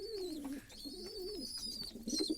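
Domestic pigeons coo softly while feeding their chicks. A low, continuous, rolling coo is joined by faint higher peeps, all quiet and close with no voices.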